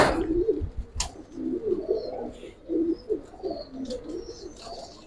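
Pigeons coo softly in a series of low, rounded calls, close by, with light rustling as a bird is held in the hand at a pigeon sale.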